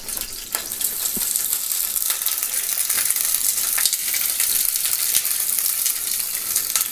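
Washed, quartered vegetables sizzle and crackle steadily in a hot pan, a dense, even frying hiss that fills the whole stretch at close range with no talk.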